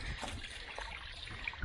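A small spring trickles out from the base of a tree along a backpacking trail, a soft, continuous, faint flow of water with no voices.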